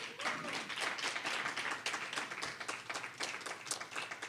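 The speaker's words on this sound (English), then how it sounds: "I want you all to give a round of applause for our panel" An audience at an NAACP Detroit Branch community law school event applauds its panel with dense, steady clapping that holds for several seconds.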